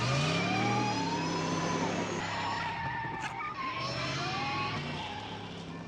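A car's tires skid with a long, loud screech in the Back to the Future video game, sustained across the whole stretch with a rising whine and engine noise beneath.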